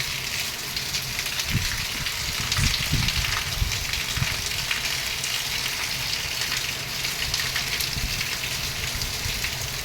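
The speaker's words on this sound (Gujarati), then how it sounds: "ફૂલ વરસાદી માહોલ છે પોરબંદરમાં અત્યારે" Heavy monsoon rain falls steadily in Porbandar, near Kotdar village, a dense continuous hiss with scattered louder drops and patters, holding an even level throughout with no talk.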